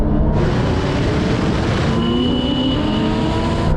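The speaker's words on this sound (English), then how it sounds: "Now we're going for a rolling race from 50 miles an hour, just cruising along." A Porsche 911 Turbo S, Ferrari 488 Pista and Lamborghini Huracán Performante accelerate hard from 50 mph in a rolling race, a loud sustained engine roar climbing in pitch with a gear shift partway through, heard from close by.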